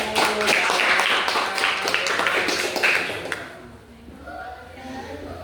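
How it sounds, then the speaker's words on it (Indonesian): A classroom of students clapping for a presenting group, with brisk, fairly close claps over a few seconds that stop abruptly, leaving quiet room noise with faint voices. "Berikan tepuk tangan untuk kelompok 1."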